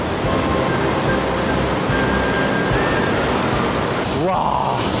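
The Yellow River waterfall at Longmen roars in a dense, continuous wash of crashing water, loud and close, with a brief sweeping sound near the end.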